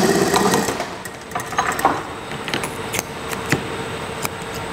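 A sewing machine stitching a trouser waistband, a steady close mechanical whir with small ticking clicks and rattles throughout, no talk.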